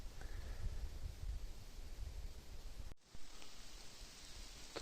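Steady soft patter of light rain starting to fall outdoors in the Carpathian mountains, a continuous gentle hiss with a brief dip midway, no voices.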